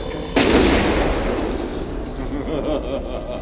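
Sustained heavy autocannon fire in the mech combat game MechWarrior Online, a loud booming barrage that starts abruptly and rolls on continuously with dense rapid shots, while a voice talks faintly underneath.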